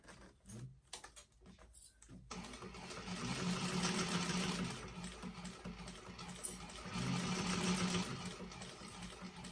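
Close-up sewing machine stitching a quarter-inch seam on a vintage expandable tote, running in two sustained bursts separated by a brief slowdown, preceded by a few light clicks and hesitations.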